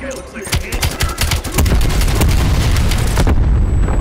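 Heavy combat barrage in Call of Duty Black Ops Cold War, a grenade blast among dense, loud gunfire bursts and booms that rise into a sustained roar; a voice speaks briefly underneath.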